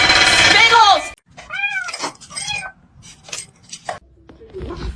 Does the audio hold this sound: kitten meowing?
yes